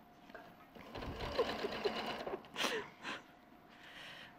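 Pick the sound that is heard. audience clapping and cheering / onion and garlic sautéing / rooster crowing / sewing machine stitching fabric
sewing machine stitching fabric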